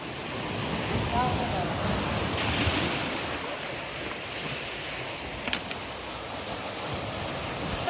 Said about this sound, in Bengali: সো এটা হচ্ছে পেবেল বিচ, দারুণ, প্রচন্ড স্রোত এখানে